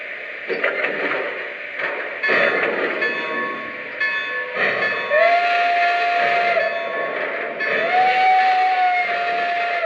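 A model train, a doubleheader of Legacy Decapod locomotives, rumbles and clatters steadily, with two drawn-out whistle tones sounding partway through; no talking.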